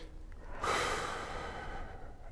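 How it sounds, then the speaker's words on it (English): A person draws a single deep breath in, a soft airy inhale that swells after a brief pause and holds steady, close and fairly quiet, during a relaxation exercise in a live TV dentist-fear session. "Take a deep breath in."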